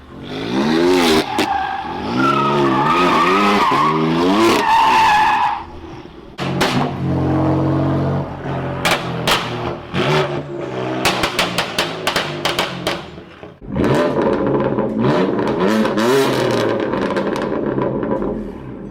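A BMW M2 Competition's S55 engine revs hard, rising and falling in pitch, then a burst of sharp crackles and pops before another loud rev.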